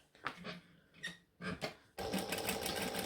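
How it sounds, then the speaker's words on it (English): Sewing machine stitching fabric along the edge of a bag pocket, short stop-start bursts of needle whirring followed by a longer continuous run, close and fairly quiet. "I'm just going to put these right sides together and stitch along the edge"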